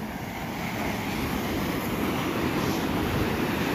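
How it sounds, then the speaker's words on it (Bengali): Sea waves washing in at Digha beach, a steady broad roar of surf with wind buffeting the microphone, continuous and fairly loud throughout, with no voices. "এই যে স্রোত আসছে দেখুন।"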